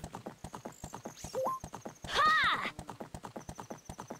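Steady hoofbeats clip-clop in a quick rhythm, broken by a loud whinnying neigh midway; horse sound effects from The Legend of Zelda: Ocarina of Time Master Quest, with a few faint synthetic tones.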